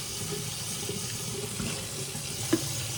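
Tap water runs steadily into a kitchen sink during dishwashing, a constant close splashing hiss with a brief clink near the end and no speech.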